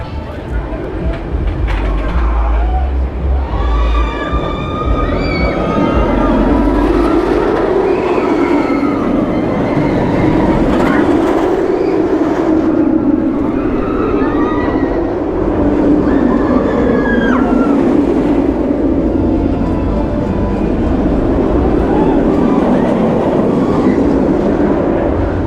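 The Nemesis Inferno roller coaster at Thorpe Park rumbles loud and continuous along its track with rattling and wind roar, while riders scream and shout throughout.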